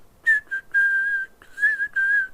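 A person whistles an imitation of the Doki Doki Literature Club music theme, a clear solo whistle in a few sustained held notes with short breaks, close and alone without talk.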